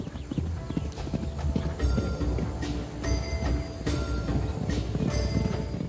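Horse hooves clip-clop steadily beneath a procession-like scene, the hoofbeats rhythmic and fairly close, mixed with a busy low background hum and faint ambient noise throughout.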